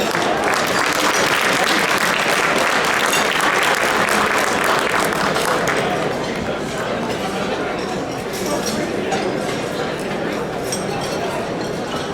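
Loud, sustained applause from an audience at a Council of Islamic Organizations of Greater Chicago gathering as Aneesa Muthana is welcomed to the stage; dense clapping that fills the room and eases slightly toward the end.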